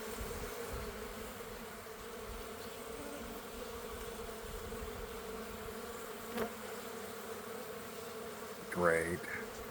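Honey bees buzz around an open hive during an inspection, a steady close drone that fills the whole stretch, with a louder bee passing near the end.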